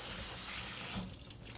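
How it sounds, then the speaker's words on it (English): Strawberries rinsed under a running kitchen tap, a steady loud hiss and splash of water filling the sink that shifts in tone partway through as the fruit moves under the stream. "I'll give these a quick rinse"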